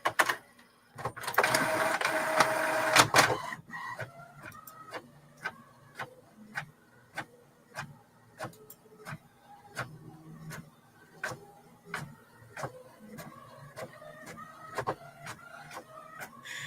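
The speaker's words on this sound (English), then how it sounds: "My printer sounds so weird sometimes." A home inkjet-style printer printing deer images, starting with a loud whirring feed burst and then settling into a run of rhythmic clicks and mechanical ticks with a low motor hum, close up.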